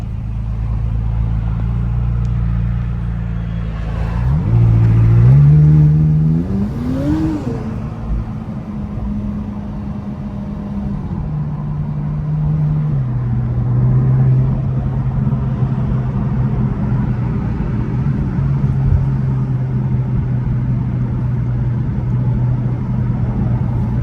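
McLaren 570S supercar engine coming in through a partly open window, a deep close rumble with a sharp rev rise and fall early on, then settling into a steady throbbing cruise with gear changes.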